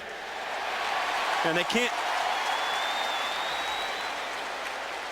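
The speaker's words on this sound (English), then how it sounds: "You can hear the crowd react as the Chiefs try and get a quick snap off and couldn't do it." A stadium crowd at a Chiefs versus Texans NFL football game lets out a broad, sustained roar that swells and holds, with a brief spoken line in the middle.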